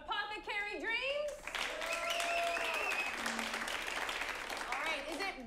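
An audience at an improvised comedy show in Portland claps and cheers steadily after a loud voice on the mic, the applause filling the room under continued speech.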